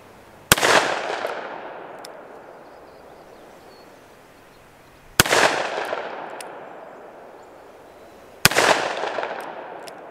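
Three loud, separate shots from a Taurus 66 .357 Magnum revolver fired at a 100-yard target outdoors. Each sharp crack is followed by a long fading echo, spaced several seconds apart, and no one speaks.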